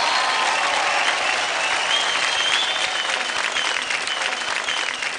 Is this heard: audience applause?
yes